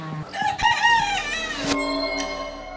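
A rooster crows loudly nearby, its call rising and falling, with chickens clucking around it in a farmyard in Romania where ducks and chicks are also kept.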